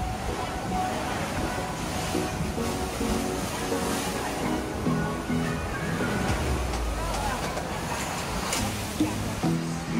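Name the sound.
ocean waves seen from seaside restaurant, Panglao, Bohol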